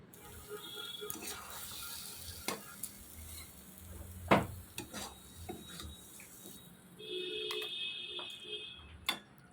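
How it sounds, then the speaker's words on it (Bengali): Sliced ridge gourd frying in a pan is stirred with a utensil, giving soft sizzling and scattered scrapes and clinks against the pan, with one louder knock partway through. "আর 1-2 মিনিট নাড়াচাড়া করে নামিয়ে নিব।"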